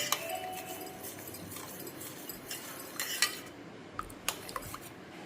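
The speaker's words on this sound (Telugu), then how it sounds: "ఇప్పుడు దీన్ని మనం బాగా మిక్స్ చేయాలి మొత్తం కలిసే విధంగా" A spoon clinks repeatedly against a glass while stirring beetroot juice with honey and lemon, quick close metallic taps and scrapes in a quiet room.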